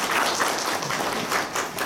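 Audience applause at a Seoul Medical Ultrasound Academy symposium, welcoming a lecturer: steady, dense clapping from a roomful of people, fairly close and sustained with no talk over it.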